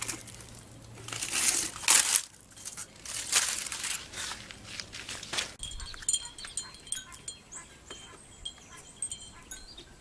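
Tin foil crumpled and pulled out of a basket used for draped Portland cement flower pots, with bursts of loud crinkling and rustling followed by lighter scattered crackles.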